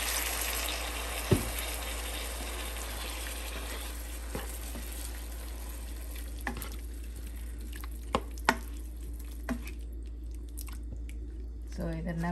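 Water is poured into chicken gravy made with chicken wings cooking in a pan, giving a steady broad sizzling hiss with a few sharp clicks that gradually quietens over about twelve seconds.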